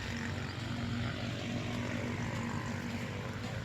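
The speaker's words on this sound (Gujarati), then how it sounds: "અવાજ આવે કાંક રિક્ષો જાય રહ્યો" An auto rickshaw drones past at a farm field, a steady low engine rumble that stays constant throughout, with no talk.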